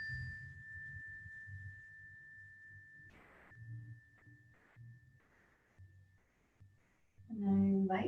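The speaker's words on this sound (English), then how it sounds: "Taking in all the sounds, focusing on this bell. Listen as it begins and as it dissipates." A meditation bell rings once with a clear, pure sustained tone that slowly dissipates over several seconds. Soft low murmurs run beneath it, and a louder, fuller sound rises near the end.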